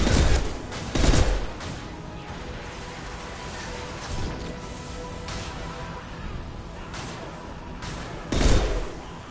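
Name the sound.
concussive shot ability firing in the video game Mass Effect 2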